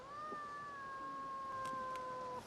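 A cat gives a single long, drawn-out yowl in a film scene, lasting over two seconds and holding steady at a moderate level against quiet background noise.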